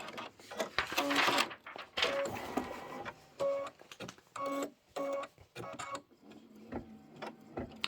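Embroidery machine stitching cut guides onto a pillow block, a rapid mechanical chatter that runs in bursts with short pauses between runs, fairly close and steady in pitch.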